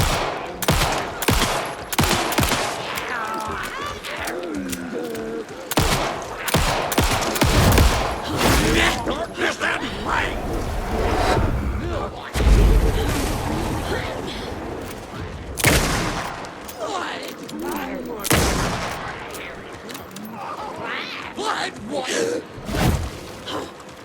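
Repeated gunfire in the video game Alan Wake 2, with dense bursts of shots and booms throughout a firefight, loud and continuous, while a player talks over it.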